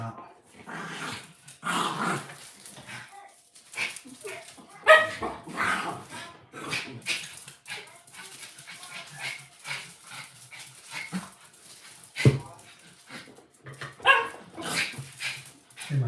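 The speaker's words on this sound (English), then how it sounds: "And my dog's playing in the background." A dog plays and barks in the background, with scattered barks, growls and whimpers coming in short irregular bursts at moderate to faint volume, separated by quieter gaps.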